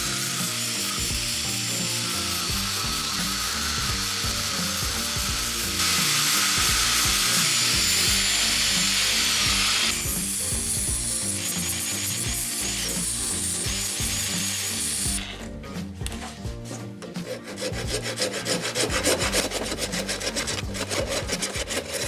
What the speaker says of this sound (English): the handle is way too wide, so I'm going to cut about 1/3 off of each handle